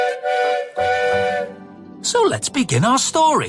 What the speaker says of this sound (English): Nia has a whistle that sounds like this.